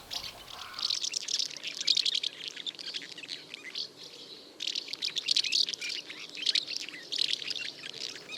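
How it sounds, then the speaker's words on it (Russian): House martins twittering in bursts, a flock of small chirps rising and falling close by in irregular clusters with brief lulls between. "Городские ласточки постоянно щебечут и кажутся, будто переговариваются друг с другом."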